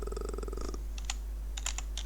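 Quick bursts of typing on a computer keyboard while coding, close and fairly quiet, with rapid clicks at the start, then scattered keystrokes over a low hum.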